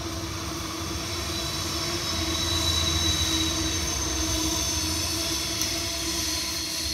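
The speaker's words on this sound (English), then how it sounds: "Good time to let the train go by anyway." A train rumbles past near a hand-tool sheet-metal workshop, a steady loud drone with wheel squeal and a constant hum, swelling slightly midway and holding for several seconds with no talking.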